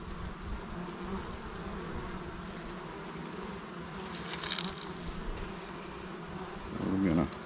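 A constant buzzing of many bees fills the air, with a brief louder swell and a soft voice near the end.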